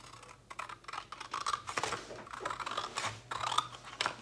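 Close, quiet snips and crisp cutting clicks as paper scraps are trimmed for a handmade mini album, arriving in uneven short bursts with small pauses between.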